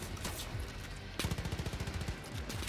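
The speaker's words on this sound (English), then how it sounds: "fucking slow ass shotgun" Gunfire from a shotgun in the video game Far Cry New Dawn, with a shot early on and then a close, rhythmic string of punchy blasts after the first second, all of it fairly quiet.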